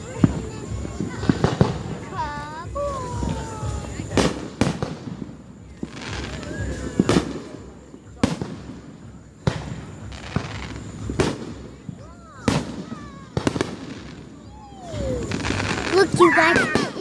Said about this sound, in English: Look, you guys, it is fireworks.